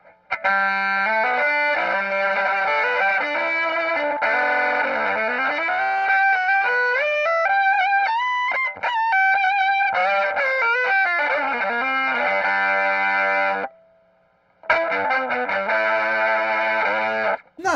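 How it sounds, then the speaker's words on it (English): Bowed fiddle played through a Caroline Guitar Co. Hawaiian Pizza fuzz pedal, thick and buzzy sustained notes sliding between pitches, loud and close, with one brief stop before the playing resumes. "That's a really nice sounding fuzz."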